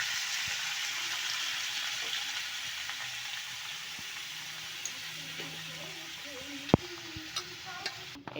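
Dried red chillies stirred in hot oil, a continuous close sizzle with occasional scraping knocks of the spoon against the pan.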